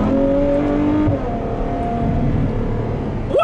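A Ferrari F12 Berlinetta V12 roars loudly from inside the cabin, with its pitch climbing, dipping at a seamless gear change and rising again. At the very end the revs sweep sharply upward.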